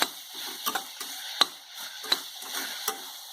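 Tomatoes sautéing in a pan with salt for a mushroom biryani: a soft, low sizzle under repeated light taps and scrapes of a spoon stirring at an uneven rhythm.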